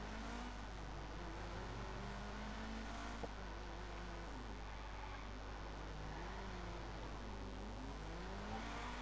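A car driving through city streets in Watch Dogs Legion, a steady engine hum with gentle rises and falls in revs over a continuous low rumble, no talk.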